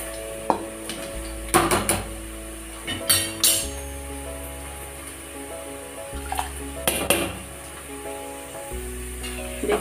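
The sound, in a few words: rice being added to boiling water in a pot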